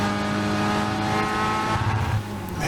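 Race car engine in a racing video game screaming at high revs and bouncing off the rev limiter, a loud, steady, buzzing whine that drops briefly near the end.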